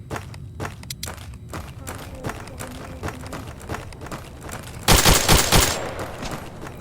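Gunfire in the VR shooter Tactical Assault VR: a scattered series of sharp shots over footstep-like movement, then a louder, denser burst of rapid fire near the end.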